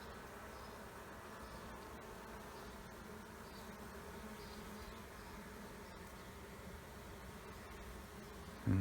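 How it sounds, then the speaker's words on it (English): Honeybees in a hive, buzzing steadily and densely around a frame of capped and emerging brood, with a continuous close drone that holds level throughout and a brief louder bump at the very end. "there's a fuzzy brand new bee as well"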